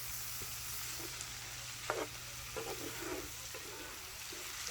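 Bacon-fried corn cooks in a pan with a steady, moderate sizzle, broken by a few soft stirring scrapes and clinks, heard up close without any talking.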